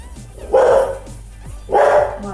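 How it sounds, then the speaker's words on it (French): A dog barks twice indoors, each bark a loud, close burst about a second apart, while someone slices a lemon into rounds in a home kitchen. "en même temps le chien il aboie, il participe également"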